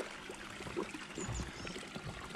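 Water trickling in a partly iced-over pond with pumps running, a faint continuous splashing pour with a low steady hum underneath.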